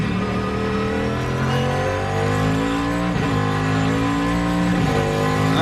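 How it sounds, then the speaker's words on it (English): A Porsche race car in a 2008 Grand-Am Rolex Sports Car race drones loudly at steady high revs, with brief dips in pitch at each gear change and a slipping clutch heard on the shifts. "Yeah, it's definitely clutch slip, I think."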